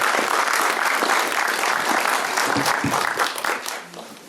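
Audience at a cultural talk applauding an archaeologist with strong, full clapping that tapers off toward the end.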